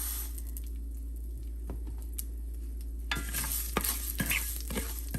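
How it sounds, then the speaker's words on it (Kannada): Mustard seeds and fenugreek roasting dry in a hot pan, a steady low sizzle with soft scattered ticks and pops that grow busier and louder toward the end, close up and without talk. "ಸೊ ಸಾಸಿವೆ ಹಾಕ್ತಾಯಿದ್ದೀನಿ. ಸೊ ಆಮೇಲೆ ಮೆಂತ್ಯನೂ ಸೇರಿಸ್ತಾ ಇದ್ದೀನಿ."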